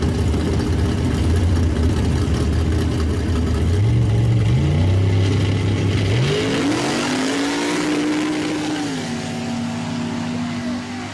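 Modified mud trucks rev and race side by side across a 200-foot Illinois mud track, engines climbing loudly in rising stepped pitches as they accelerate, then fading into a lower, rougher drone as the run ends.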